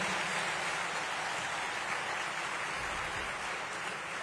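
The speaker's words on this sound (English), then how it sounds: "Please join me with a great round of applause to invite our Honorable Dr. Jaishankar" A large audience at an IIT Madras campus event gives a sustained, dense round of applause welcoming Dr. Jaishankar, Minister of External Affairs, an even wash of clapping heard from a distance with no voices.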